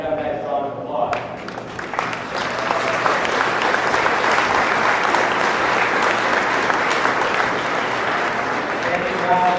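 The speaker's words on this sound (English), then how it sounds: "I'd really like my staff to stand up and give them a nice round of applause" Warm, full round of applause from the audience for staff at an appreciation dinner, rising after a brief voice at the start and continuing dense and steady.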